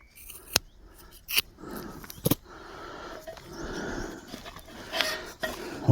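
Scissors snipping through material while camping gear is packed at a solo wild camp in Wales, a few sharp distinct cuts close by with quiet rustling between them.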